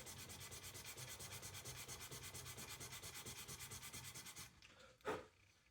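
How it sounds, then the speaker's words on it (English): A horn butt plate is hand-sanded during checkering to smooth out a slipped cut: soft, evenly repeated back-and-forth rubbing strokes, close but quiet, followed by a brief light tap and then near silence. "So I'm going to sand out that slip."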